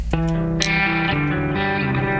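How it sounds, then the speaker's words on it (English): A short electric guitar riff with a distorted, effects-heavy tone: a few sharp plucked notes ringing out into long sustained chords. "is this a guitar riff?"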